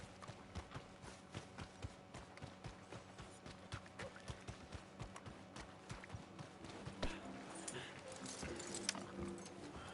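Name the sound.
horse hooves in video game Red Dead Redemption 2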